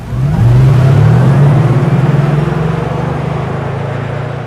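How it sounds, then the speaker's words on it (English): A synthetic drive tone from an all-electric 2025 Mercedes G-Class, low and humming, swelling steadily in pitch as the car accelerates, then holding a loud, even drone. "we will delight you with the very emotional G-Class specific driving sound for this all-electric model"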